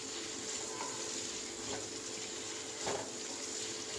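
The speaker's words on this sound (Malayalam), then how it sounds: "സവോളയും കരിയാപ്പലയും പച്ചമുളകും ഇടുക." Onion, curry leaves and green chilies frying in a pan, a soft, steady sizzle with faint stirring scrapes and a brief louder clatter near the end, no voices.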